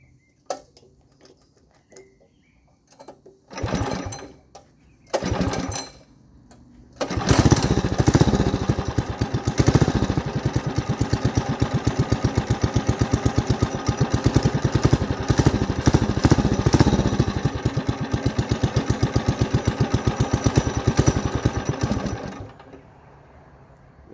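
A dirt bike engine, unstarted for about a week, is cranked on choke with a few short sputtering attempts, then catches and runs at a loud, steady, rapid idle for about fifteen seconds before cutting off.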